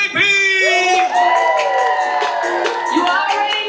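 Party crowd on the Margaritaville at Sea Islander cruise ship at a sail-away party, loud whooping and cheering voices rising and sliding over one another, close and dense, with an announcer's voice mixed in.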